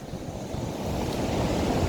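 Calm sea waves at Yeomjeon Beach near the lower Wangpi River in Uljin, a soft continuous wash of surf with light wind noise that swells slightly in the latter half.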